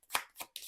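Playing cards being shuffled by hand, three quick riffling bursts close to the microphone.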